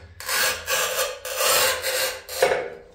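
A harsh, gritty scraping sound repeats in several long strokes as a tile cutter's wheel scores a floor tile, close and steady.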